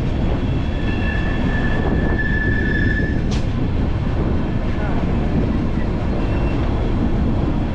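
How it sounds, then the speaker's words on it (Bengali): A passenger train on the Sealdah to Totopara journey runs on its rails with a loud, continuous rumble heard from onboard, and brief wheel squeals rise above the roar. "পুরো ট্রেনটা দেখা যাচ্ছে, পুরো ট্রেনটা কিন্তু কার উপরে আছে।"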